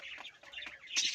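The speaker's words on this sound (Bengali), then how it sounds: "এগুলো এত আওয়াজ করছে পাখিগুলো" Pigeons kept in a coop give several faint, short calls in quick succession, soft and slightly distant with a brief louder burst near the end.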